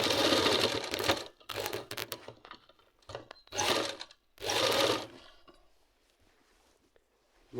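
A sewing machine stitches an Afghani salwar in several loud, close bursts of rapid whirring, separated by short pauses, with no talking.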